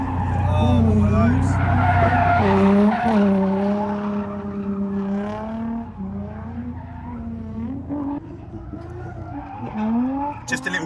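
A Mk4 Volkswagen GTI spins round and its tires squeal loudly in a long, wavering screech over the revving engine, then the squeal fades and a few short chirps follow.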